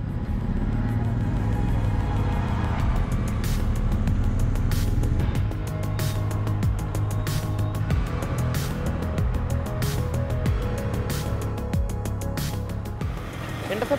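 A Royal Enfield Interceptor 648cc twin-cylinder motorcycle engine drones steadily while riding, with a low continuous rumble, wind noise and faint rhythmic ticking throughout.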